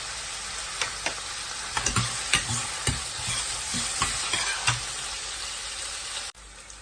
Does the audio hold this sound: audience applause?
no